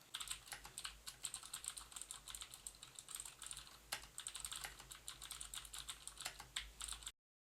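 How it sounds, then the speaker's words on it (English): A mechanical keyboard is typed on beneath a TONOR UHF wireless karaoke microphone, giving a rapid, steady stream of crisp clicky keystrokes for about seven seconds before cutting to silence, with no voices. "we're going to see how well the microphone handles a mechanical keyboard being typed on under it"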